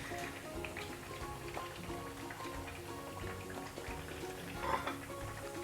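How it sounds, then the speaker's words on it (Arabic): Chopped onion sizzles in hot oil in a pan as meat and eggplant are cooked for fatteh makdous, a soft, steady crackle with a few brighter pops, close but fairly quiet. "اول شي بنقلي البصله"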